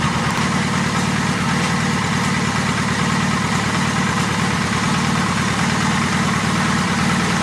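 An old motorcycle engine idles steadily nearby in a courtyard in Pula, a constant low rumbling putter that holds an even level throughout with no other sounds over it.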